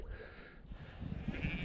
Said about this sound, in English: Here comes all the sheeps.